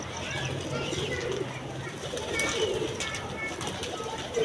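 Pigeons at a pigeon keeper's loft cooing softly and repeatedly in the background, with people talking over them throughout.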